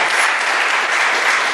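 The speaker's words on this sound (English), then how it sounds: "Please just give ALVA a round of applause" A crowd at the ALVA Awards ceremony in New York City claps loudly and steadily, a short, continuous burst of applause with no pauses.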